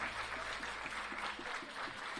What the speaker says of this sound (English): Can we have a round of applause for the contestants and Mr. Sachin Ravi?